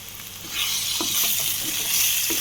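Onion, ginger and garlic sizzle steadily in a pan as the base for a mutton curry, a close, continuous frying hiss that swells slightly partway through, with a few soft stirring clicks and no talk.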